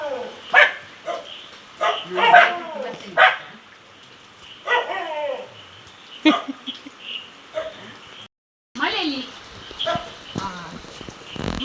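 Several sharp dog barks ring out in bursts, some close together, with short pauses between and a brief silent gap near the end.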